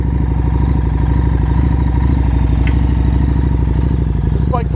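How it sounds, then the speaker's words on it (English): A Harley-Davidson XG750 Street 750 motorcycle fitted with a DG exhaust runs steadily throughout, giving a loud, close, rapid low-pitched engine pulse. "This bike's a lot of fun to ride, especially when you add an exhaust system."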